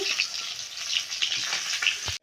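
Hot oil sizzles and crackles steadily as fish fries in a pan, close and continuous, with occasional louder pops.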